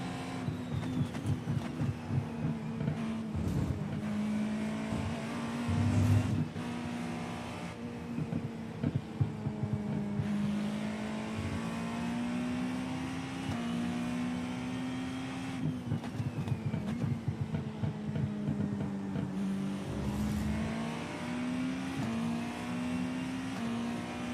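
Porsche GTP race car engine in iRacing, a steady droning hum with pitch rising and falling through gear changes and corners, moderately loud and continuous, no talk.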